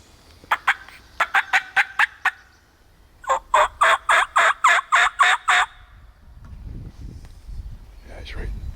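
A wild turkey gobbles repeatedly in the woods during a guided turkey hunt, a couple of sharp rattling bursts followed by a longer rapid series, heard from a moderate distance, with a quiet voice murmuring near the end.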